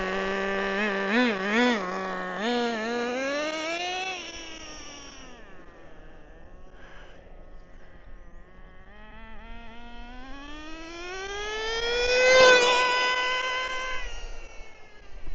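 A Traxxas Nitro Rustler RC car's nitro engine idles slightly high, humming with a high, buzzy tone that wavers and rises and falls in pitch, steady throughout and fairly close.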